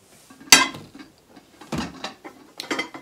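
Cookware pots and pans from a new set being handled, giving a few sharp metallic clanks and knocks spaced apart, close and fairly quiet, with soft rustling between.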